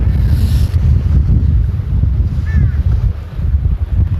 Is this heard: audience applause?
no